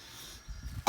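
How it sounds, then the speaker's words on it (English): A single short, sharp cough from a person recovering from a virus bursts out near the end, close and fairly loud, after a quiet stretch of faint background noise in an outdoor garden. "Excuse my coughing"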